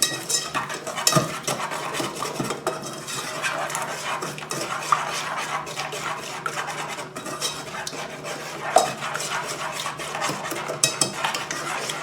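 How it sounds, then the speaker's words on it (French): Whisk scraping and clinking steadily in a bowl while mixing lemon zest, sugar and cornstarch for a lemon meringue tart, close and continuous with small metallic taps. "Ensuite, je vais bien mélanger."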